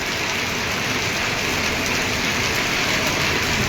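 Heavy rain pours during a thunderstorm in Patepur, a loud, steady, unbroken hiss of falling water that fills the whole stretch.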